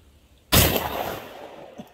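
A single loud gunshot from a home-rifled barrel at a shooting range: one sharp, close blast with a long fading outdoor tail, no talking.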